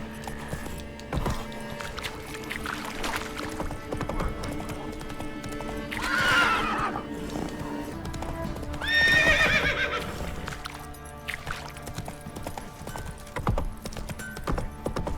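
Horse hooves clip-clop in The Witcher 3 video game with a continuous walking rhythm, and two whinnies ring out partway through over quiet game ambience.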